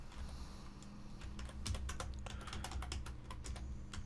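Quiet, steady typing on a computer keyboard, a run of soft key clicks with a few sharper taps, heard close against a faint background hum, with no talking.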